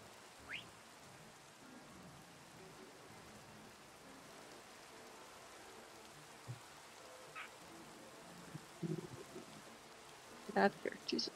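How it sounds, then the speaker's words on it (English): Rain falls in the Minecraft video game as a soft, even hiss throughout, broken by a few faint clicks and taps near the end, with no talk over it. "I like how it's only raining where you're at."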